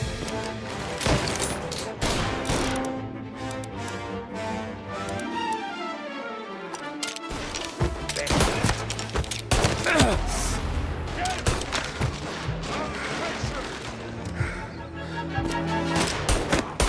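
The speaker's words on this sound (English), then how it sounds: "Gunshots rolling in." Heavy gunfire in the video game Mafia Definitive Edition, with dense overlapping shots and bursts rattling continuously throughout, loud and close amid a chaotic firefight.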